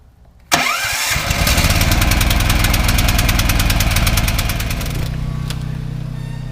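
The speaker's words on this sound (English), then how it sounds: "we're going to fire up this generator" A portable generator cranks over and catches, then runs at a steady, loud drone close by for several seconds, its pitch settling lower near the end.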